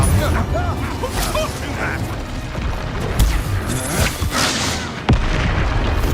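An Incendio fire spell cast in the Hogwarts Legacy video game: a loud, dense roar of clanking and whooshing, with a couple of heavy booms, under faint voices.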